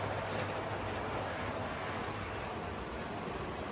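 A faint, steady whirring rumble of a small O-scale/On30 model train running continuously along its track on a model railroad layout, with no voices.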